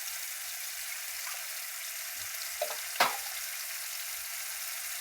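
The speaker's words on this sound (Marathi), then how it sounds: "आता हा तेलात चांगला मसाला परतायचा आहे बघा" Masala frying in hot oil while cooking bombil, a soft continuous sizzle with a faint low rumble, a couple of louder stirring clinks and scrapes near the middle.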